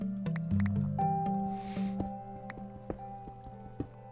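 Water dripping in a Minecraft cave, sparse soft plinks scattered over a quiet game music bed, faint and irregular with no talk.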